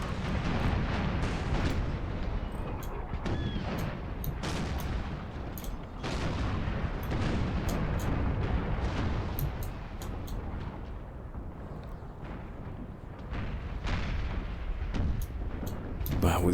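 Repeated artillery fire from cannon batteries in Empire: Total War, booming in a dense, continuous barrage with sharp recurring blasts over a rumbling battlefield din, with faint voices mixed in.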